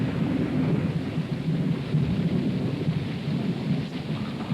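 Steady rain pours down with rolling thunder rumbling beneath it, a dense, continuous storm wash that stays loud and even throughout, with no voices.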